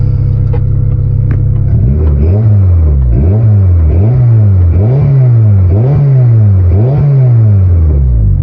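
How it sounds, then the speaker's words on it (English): A Honda Integra engine revved repeatedly in a garage setting, rising and falling induction roar in about six rhythmic throttle blips after a steady idle, loud and close. "Throttle response seems great, and that induction noise is really cool."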